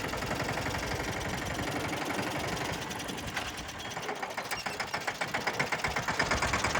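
A farm tractor engine idles and runs steadily in a field, its low mechanical chugging loud and continuous, with a rhythmic knocking pulse that grows slightly stronger toward the end.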